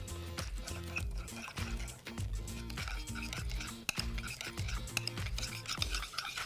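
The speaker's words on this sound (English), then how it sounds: "Give that a really good mix." Ma Po Tofu sauce with pepper stirred briskly in a bowl, a continuous wet scraping and swishing with light utensil clinks, close and fairly soft.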